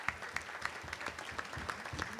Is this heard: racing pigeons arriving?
no